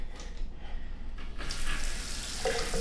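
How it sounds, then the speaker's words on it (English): Water runs from a new sink faucet in an old rental house with black iron pipes, a steady hiss that swells louder and brighter partway through, heard alone without talk. "we're gonna have to turn the water on, just leave it on, because this water is nasty"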